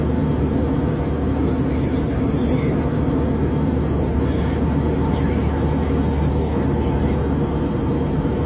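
Steady, loud low roar of an airplane cabin heard from a window seat, a constant broadband drone with no gaps for the whole stretch.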